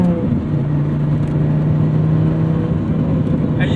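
Engine note of a 2006 Dodge Viper SRT-10 coupe responding to throttle, a loud steady low drone held close and continuous for a few seconds with a brief higher whir near the end.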